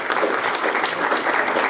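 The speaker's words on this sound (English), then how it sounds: "Let's give Rabbi Schachter a round of applause," An audience gives Rabbi Fischel Schachter a round of applause after his talk, steady dense clapping that fills the hall, loud and close, with no voices over it.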